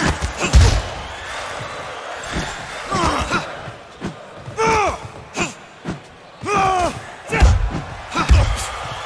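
A crowd in a boxing video game reacts as a haymaker lands to the body, with dull thumping impacts and a rising murmur and gasps from spectators, mixed with voices talking and grunting.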